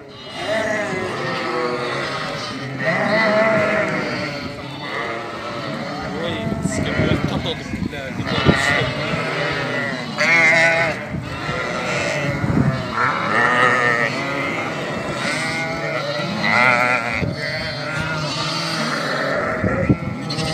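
A flock of purebred Hissar lambs bleats repeatedly while leaving their pen, overlapping calls rising and falling throughout, with someone talking over the animals.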